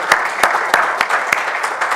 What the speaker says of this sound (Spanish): me gustaría que le diéramos un aplauso a la comisión organizadora